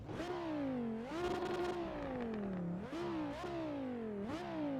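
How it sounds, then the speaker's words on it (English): Simulated racing car engine from Assetto Corsa, Ready to Race DLC car, droning loud and continuous with rising revs that drop back at each gear change, four or five shifts, steady and close with no talking. "So we're gonna listen to the engine here a bit."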